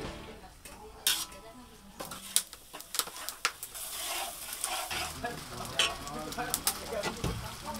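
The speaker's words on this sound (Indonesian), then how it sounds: "Bumbu lainnya adalah bawang merah dan putih. Bumbu kemudian ditumis." Spices with shallots and garlic being stir-fried for Indonesian lalampa filling: soft sizzling under frequent scraping and clinking of a utensil against the pan, with irregular sharp knocks.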